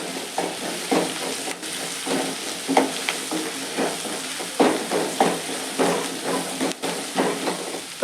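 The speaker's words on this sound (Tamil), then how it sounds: "இப்போ சோம்பு தூள் சேர்க்குறேன். இப்போ கரம் மசாலா சேர்த்துக்கிறேன்." Fennel powder and garam masala frying in a pan for a sambar made without dal, a steady hissing sizzle with repeated scraping stirs of a spoon against the pan, close and loud, no talking.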